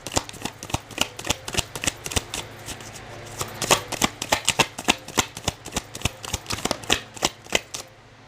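Tarot cards are shuffled in a steady run of crisp riffling slaps and flicks, close and fairly loud, continuing for several seconds with no talking.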